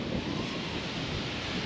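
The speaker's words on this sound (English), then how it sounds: "it's super windy out if you can't tell already" Strong wind blows outdoors while a DJI drone is flown, a constant loud roaring wash of broadband wind noise battering the microphone, steady throughout with no breaks.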